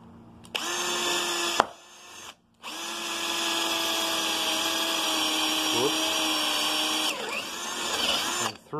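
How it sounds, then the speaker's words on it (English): A power drill bores into the head of an old Warren-Teed 84-8 sledge hammer from around 1947, giving a loud, steady whine that halts briefly twice before running on unbroken for several seconds. "Back to the drilling."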